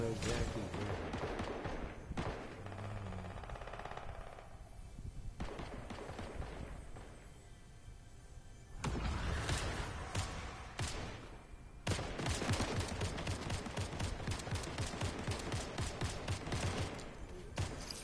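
Gunfire in the video game Black Ops, with dense bursts of rapid automatic shots and fusillades that come and go in several loud stretches, broken by brief quieter gaps.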